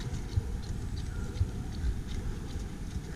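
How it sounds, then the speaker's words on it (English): A small saddle horse, a mare, walks while being ridden, her hooves clip-clopping in a few soft, dull thuds under steady low rumble and outdoor noise. "Good little horse."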